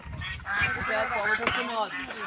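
Ducks honking and quacking on a village pond beside a bamboo bridge, a cluster of loud nearby calls with a few overlapping voices in the flock.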